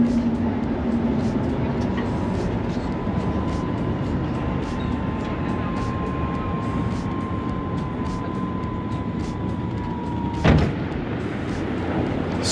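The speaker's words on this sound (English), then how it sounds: "So this is the metro station Sherbrooke here in Montreal" Inside the Sherbrooke metro station in Montreal: a loud, steady rumble of a train with a long sustained whine, ending in a brief thump, and no talk.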